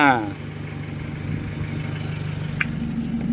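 A tuned 1.9 diesel pickup running with a remapped throttle box, its engine held high near 4000 rpm in a steady, loud, continuous drone, with a faint bit of talk over it.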